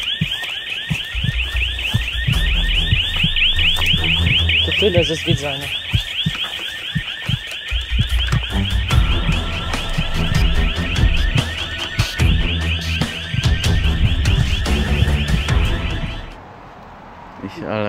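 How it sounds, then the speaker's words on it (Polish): A loud, continuous warbling alarm blares steadily for most of the stretch while voices talk over it, then it cuts off near the end. "I się alarm włączył."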